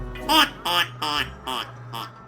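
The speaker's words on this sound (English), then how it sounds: "the siblings quacked loudly, teasing her" Five loud, nasal quacks in a steady, evenly spaced series, close and clear, with a low hum underneath.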